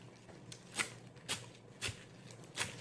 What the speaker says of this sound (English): I'm just going to cut it into little ribbon